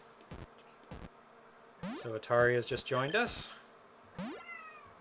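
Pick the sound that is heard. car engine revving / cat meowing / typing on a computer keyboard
cat meowing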